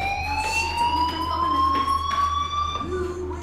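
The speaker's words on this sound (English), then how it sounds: "do you hear that fire alarm?" A fire alarm rings in the video game Life is Strange, a steady electronic tone with bright harmonics that slowly rises in pitch and holds loud and continuous throughout, over a low background hum.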